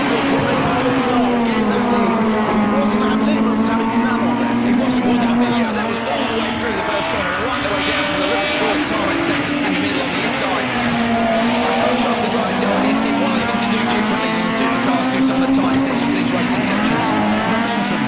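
Super1600 rallycross cars race hard at Lydden Hill, engines droning loud and steady with shifting pitch as they load through Paddock Bend, with a commentator talking throughout.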